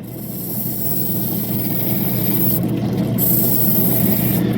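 Fire red Mintabie opal being ground on a wet cutting wheel, a continuous close rasping hiss with steady rubbing texture, no talking.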